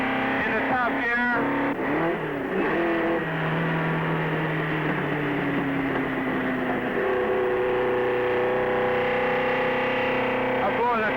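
A racing car from a 1961 race shifts up into top gear, its engine note dropping then climbing steadily in a loud, continuous drone beneath a voice.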